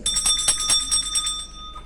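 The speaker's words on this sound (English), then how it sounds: "Soon it rang out loudly, and so did every bell in the house." Bell in a house rings out loudly and repeatedly in quick metallic strikes, with a bright ringing tone that lingers and fades.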